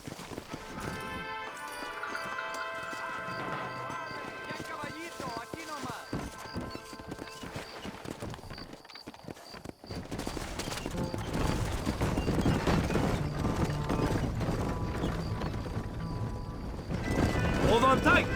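A horse gallops in the video game Red Dead Redemption, rapid rhythmic hoofbeats running throughout under music and talking voices, growing louder toward the end.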